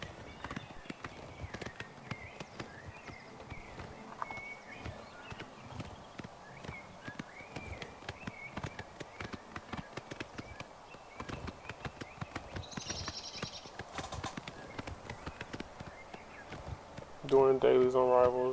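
Continuous hooves clip-clop at a running pace in Oblivion Remastered for the whole stretch, fairly close, with a voice speaking briefly at the very end.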